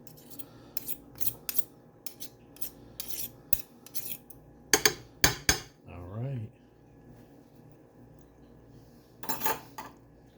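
Metal spoon scrapes the last contents of a can into a pot of rice and beans, several sharp grating strokes in quick bursts with pauses between, close and clear.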